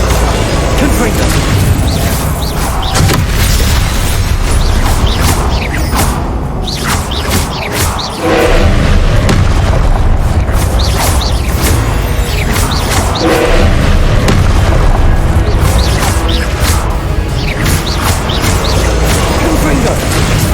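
Confringo blasting spell explosions in the Hogwarts Legacy video game: dense, loud booms and crashes pile up continuously over a busy combat din.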